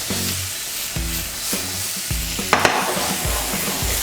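Beef stir fry tossed in a very hot pan over high heat, with a loud continuous sizzle and a series of rhythmic scraping clanks as the pan is shaken and tossed repeatedly.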